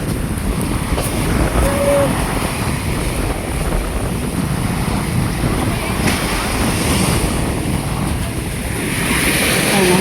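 Sea waves rolling onto the shore at low tide in bad, windy weather, a steady roar of surf mixed with wind buffeting the microphone, continuous and fairly loud throughout.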